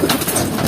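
A racing pigeon coos softly in a short, rippling burst close to the mic, with faint rustling under it.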